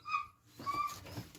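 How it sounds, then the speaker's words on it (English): A dog whimpers and whines at a door, wanting to get in, giving a couple of brief, high, thin whines at moderate distance. "that's my dog wanted to get in"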